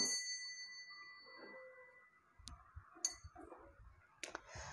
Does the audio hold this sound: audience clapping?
no